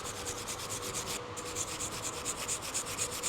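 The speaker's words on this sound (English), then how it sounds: "give this a clean with a wire brush" A wire brush scrubs the rear brake disc of a Tesla Model S or X in close, steady back-and-forth strokes, a continuous rasping hiss with a brief break partway through.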